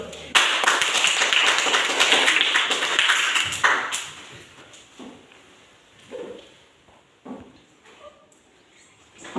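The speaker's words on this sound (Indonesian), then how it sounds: "Tepuk tangan dulu." Students in a classroom burst into applause, a loud clatter of hand claps for about four seconds that fades into scattered taps and quiet room noise.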